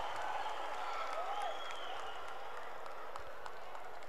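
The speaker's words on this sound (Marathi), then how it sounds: "टाळ्या या वाजत राहायला पाहिजेत. क्या बात है. जोरदार टाळ्या." An outdoor crowd at a women's final of a Dahi Handi premier league event applauds, with sustained, even clapping spread wide and fairly distant, while a voice and other crowd noise carry faintly over it.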